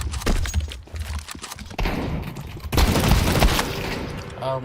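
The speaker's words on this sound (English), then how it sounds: "I'm throwing a grenade" Grenade explosion in a shooter video game, a harsh broadband blast and rumbling burst amid other loud, chaotic in-game gunfire and noise.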